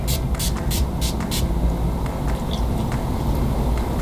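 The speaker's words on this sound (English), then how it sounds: "the first thing you definitely want to do is invest in a good setting spray" Makeup setting spray is pumped onto a face in several quick bursts of fine mist, five short hissing sprays in a row, close and fairly loud over a low background rumble.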